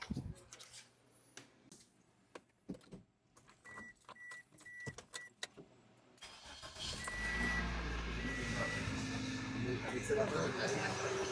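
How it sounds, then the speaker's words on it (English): Quiet clicks and clunks, then a Toyota Corolla engine with a newly replaced belt tensioner cranks and catches, settling into a loud, steady idle. "we're going to go ahead and start the car"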